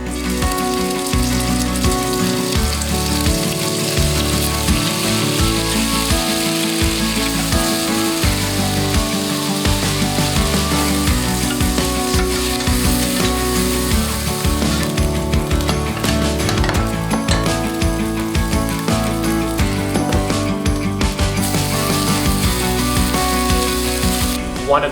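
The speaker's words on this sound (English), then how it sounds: "What we wanna do is sear the chunks of beef in the pot as our first step." Beef chunks sear in hot oil in a pot, giving a loud, steady sizzle and crackle throughout, with no talking.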